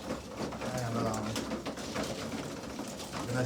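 Racing pigeons feed after a three-hour loft fly and give repeated soft, low cooing calls up close, mixed with pecking and fluttering, with voices talking faintly in the background.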